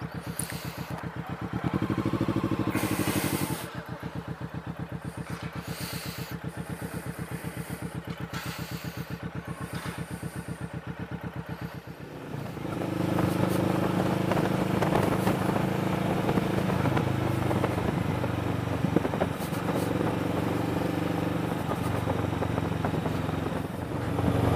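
A motorcycle rides through a residential neighborhood, picked up by a small iPhone microphone mounted on a helmet. A steady engine drone and rumble grows louder and rougher partway through, mixed with wind noise.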